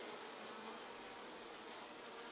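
Dense, steady buzzing of many honey bees close around an open hive, a continuous broadband hum with no breaks or voices.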